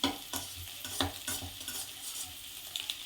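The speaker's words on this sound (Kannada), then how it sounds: "ಈಗ ಈರುಳ್ಳಿಗೆಲ್ಲ ಮಿಕ್ಸ್ ಮಾಡು, ಈರುಳ್ಳಿ ಟೊಮೊಟೊ ಎಲ್ಲ ಮೊಟ್ಟೆ ಜೊತೆಗೆ" Egg frying with onion and tomato in a hot pan for egg Maggi, stirred in quick scraping strokes over a light sizzle, close and fairly quiet, with no talking.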